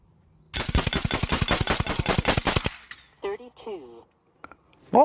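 An Air Arms SK19 PCP airgun fires a rapid string of about eleven sharp, loud cracks in quick even succession, followed by someone speaking briefly.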